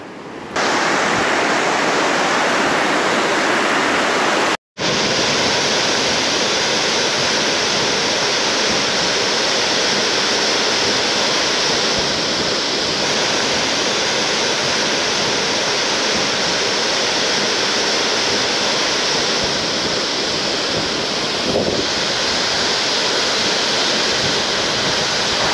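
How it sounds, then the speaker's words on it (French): A small waterfall pours in a steady, close, hissing rush that continues unbroken except for one brief cut near the start. "Sympa cette petite cascade."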